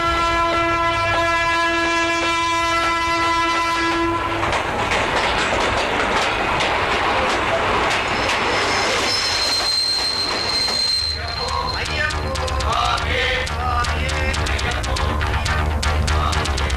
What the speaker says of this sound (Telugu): ఒరే ట్రైన్ వచ్చిందిరా.